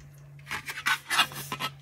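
Short rasping rubs, several quick swipes of a sanding stick against a small hard plastic part of a 1/48 scale B-25J model kit, close and dry, with a steady low hum underneath.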